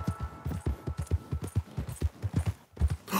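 Horse hooves clip-clop steadily in Red Dead Redemption 2, a quick, even run of close, distinct footfalls with a brief pause near the end.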